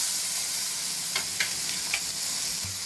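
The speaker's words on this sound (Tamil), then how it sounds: "இப்போ வந்து நல்லா சிம்மில் வச்சு ஃப்ரை பண்ணணும் ஃப்ரெண்ட்ஸ்." Batter-coated paneer fries in oil over a low flame, giving a dense, even sizzle and hiss throughout, with a few brief crackles and a light knock near the end.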